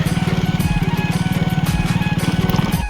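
A motorcycle engine thrums close by with a steady, loud, evenly pulsing beat as it rides along a rough hill road toward Dhaskund Waterfall parking in Chhattisgarh.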